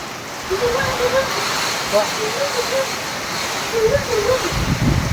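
Loud gusting wind and rain roar continuously, with buffeting against the microphone and a faint whistling tone drifting through.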